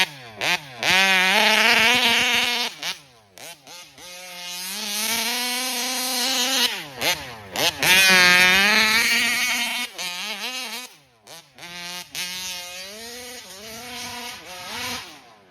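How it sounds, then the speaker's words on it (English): Big block two-stroke engine with reed valves revving to very high RPM, several sharp screaming bursts that rise and fall with brief pauses between, loud and close with no talking. "that's the highest RPM I've ever heard out of this 71 ever"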